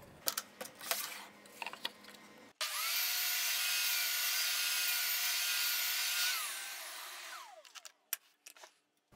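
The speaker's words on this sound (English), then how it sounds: "So first, I'll just cut this up into equal size pieces using the stop lock" A table saw cross-cutting a wood board into equal pieces on a cross-cut sled, a few knocks and clicks, then a loud steady whine for about four seconds that winds down and fades, followed by light wooden handling taps.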